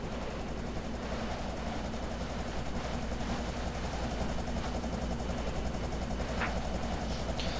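Helicopter from the video game Hard Corps Uprising, a steady, loud rotor-and-engine drone holding constantly throughout, with no voices over it.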